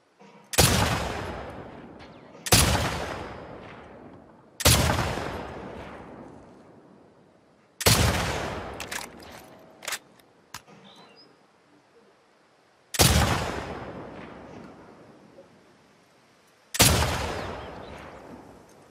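Single gunshots from The Last of Us Part II echo across a quiet winter patrol area, with about six sharp, loud reports spaced a few seconds apart and long reverberant tails, plus a few fainter clicks between them.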